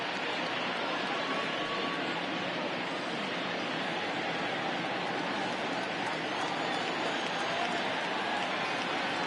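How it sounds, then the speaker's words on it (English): Steady, loud wash of crowd noise from the stands at a minor-league Texas League baseball game, a continuous murmur without distinct cheers or claps throughout. "the home crowd seems a little restless"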